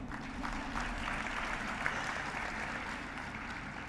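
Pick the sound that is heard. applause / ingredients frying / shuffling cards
applause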